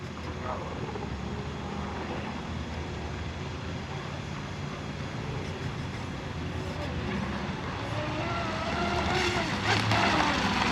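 An American-made J&R Marine H26 fiberglass RC hydroplane runs on the water, its motor a faint, continuous drone at a distance that swells slightly toward the end.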